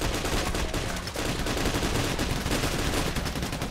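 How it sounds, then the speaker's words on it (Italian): Dense, continuous automatic gunfire from a Payday heist shootout, loud and relentless bursts layered over each other throughout with no pauses. "Stanno veramente crivellando tantissimo."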